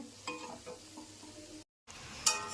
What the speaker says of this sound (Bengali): আর এদিকে বড়াটা ভাজা হচ্ছে